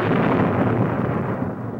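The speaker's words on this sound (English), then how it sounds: "The cannon fire roused Boston, and Generals Gage, Howe, and Burgoyne met" Cannon fire from a British man-of-war, the Lively, in a 1970s animation of the Battle of Bunker Hill: a loud, deep rumbling blast that fills the moment and slowly fades without fully dying away.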